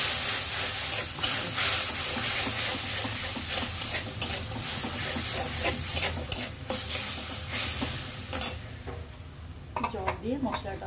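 Spice paste with Kashmiri chili and a splash of water sizzles in a pan for taro curry, with steady frying hiss, repeated spoon scrapes and clinks against the pot, and faint talk near the end.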